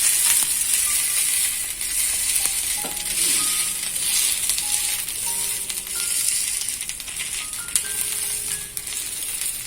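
A basale leaf rotti sizzles steadily on a hot pan after being flipped, a close, constant frying hiss with a few small clinks and rattles and no talk.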